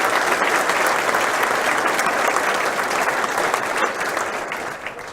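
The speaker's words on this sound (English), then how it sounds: "So, round of applause." An audience at a security conference applauds after a talk on abusing vulnerable Active Directory Group Policy configurations: dense, sustained clapping from a sizable room that holds steady and then begins to taper off.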